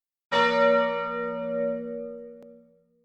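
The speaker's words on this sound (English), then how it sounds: "this bell plays whenever a new day starts" A single bell chime from a roguelike game marking the start of a new day: one clear struck tone with rich ringing overtones that sustains and slowly fades over a couple of seconds, heard alone.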